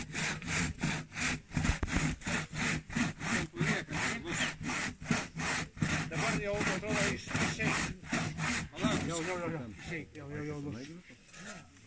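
A hand saw cuts through a fir tree trunk in steady back-and-forth strokes, about two per second, rasping close by while people talk over it; the strokes break up near the end.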